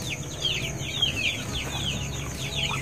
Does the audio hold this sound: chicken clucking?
yes